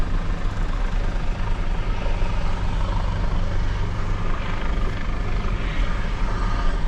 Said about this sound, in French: Ça, c'est l'hélicoptère du SAMU.